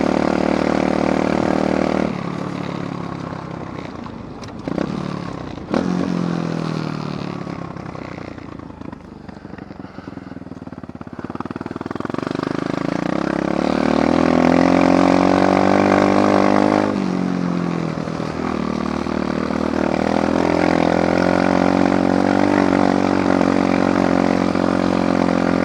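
Apollo dirt bike engines revving while riding off-road, loud and close with rising and falling pitch as gears change, the roar swelling past mid-clip before settling, with no talking.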